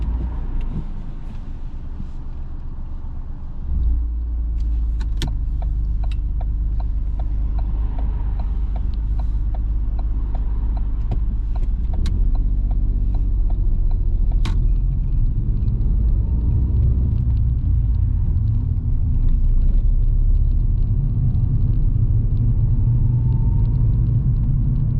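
A car on a driving test route pulls away after a short idle, its engine rumble rising into a steady low cabin drone of continuous road driving with occasional faint clicks, heard from inside.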